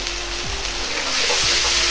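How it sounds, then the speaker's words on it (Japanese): Potato starch slurry goes into warm sweet and sour sauce in a pan, giving a close, continuous gentle sizzle and bubbling with light stirring noise over the two seconds. "タレが温まってきたら、水溶き片栗粉大さじ1を入れ"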